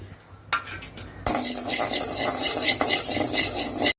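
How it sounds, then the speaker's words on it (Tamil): Fenugreek seeds dry-roasting without oil in a hot pan, stirred with a utensil, making a crackling rattle and repeated scraping, close and fairly loud after a brief clink at the start. "அடுப்பில் சட்டியை வச்சு சூடு படுத்திக்கலாம் எண்ணெய் ஊற்றாம வெந்தயத்தை போட்டு வறுத்து எடுத்துக்கலாம்"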